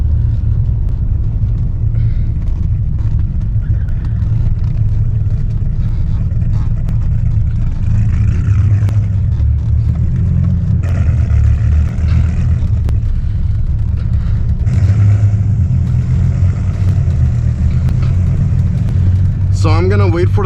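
A 1997 Dodge Viper GTS engine rumbles steadily at low pitch while driving, a constant deep drone with slight swells, and a few faint higher noises late on.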